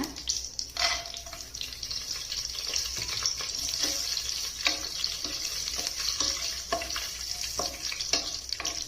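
Cashews frying in a pan while cooking avarekalu pulao, with spices already added: a loud, continuous oily sizzle with scattered stirring scrapes and clinks, and no talking.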